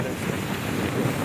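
Wind buffets the microphone at a seaside spot in San Nicolas, Batangas, a loud, rough, continuous rush over a short moment.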